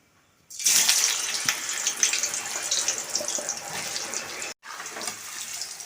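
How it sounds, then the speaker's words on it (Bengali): Sliced potatoes for French fries hit hot white oil in a wok and burst into a loud, hissing deep-fry sizzle that holds steady, broken by one brief gap near the end. "এবার আমি আলুগুলোকে তেলের মধ্যে ছেড়ে দিচ্ছি"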